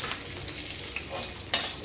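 A radish pickle spice mixture fries softly in a pan, giving a faint, steady sizzle with light stirring scrapes and one brief sharper clink of a utensil near the end.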